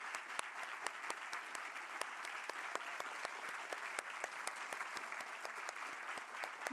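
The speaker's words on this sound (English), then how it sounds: "I know that you all think you might be tired of clapping, but we're not going to stop." Audience at a literary awards ceremony gives sustained applause, many hands clapping in a dense, steady patter that continues for several seconds without voices.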